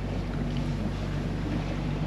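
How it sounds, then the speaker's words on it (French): Steady drone of a sailboat under engine power with the mainsail up, in light following wind of about five knots; continuous low hum with wind and water wash, no talk. "Bon, pour l'instant on a mis la grande voile et puis on est au moteur."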